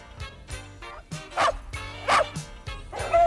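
A dog barks repeatedly in short, sharp woofs roughly every half second, close and fairly loud, with some yipping between.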